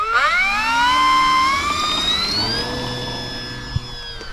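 E-flite P-47D Razorback RC plane's electric motor throttling up for a takeoff on grass, a rising whine that climbs steeply in pitch and then holds a high steady tone, close and loud.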